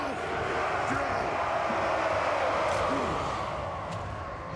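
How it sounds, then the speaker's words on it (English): Soldiers in a Warhammer battle game cheer together as a distant crowd roar, with scattered shouts over a dense wash of battle noise. The sound stays steady throughout and fades slightly at the end. "They're cheering."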